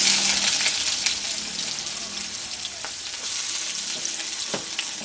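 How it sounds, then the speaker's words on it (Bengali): Chopped onion fries in hot refined oil in a wok, a loud, steady, close sizzle with scattered crackles and light stirring scrapes throughout. "তেলটা গরম হয়ে যাওয়ার পরে প্রথমেই আমি এর মধ্যে পেঁয়াজ কুচিটা দিয়ে দিচ্ছি।"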